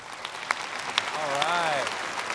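An audience at a live interview show applauds in a steady, dense patter, with a voice talking over the clapping partway through.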